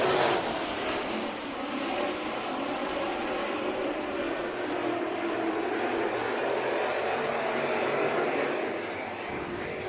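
IMCA modified race cars run a heat race at Bakersfield Speedway, a dirt oval, their engines roaring in a steady, loud, continuous drone with no clear pass-by peaks across the whole stretch.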